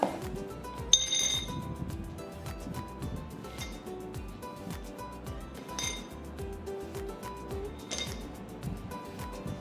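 Dice rattle inside a Hi-Lo dice shaker in a steady, continuous clatter with bright clinks, loudest and sharpest near the start, shaken hard and close up with no talking.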